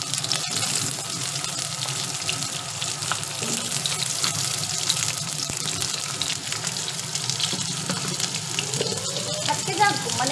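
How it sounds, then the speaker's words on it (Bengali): Pointed gourd and potato pieces frying in hot oil, a steady hiss and crackle running throughout, with occasional faint speech in the background. "তো পটল আলু তো আমাকে ভাজতেই হবে"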